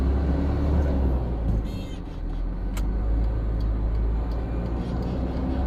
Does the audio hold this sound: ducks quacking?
no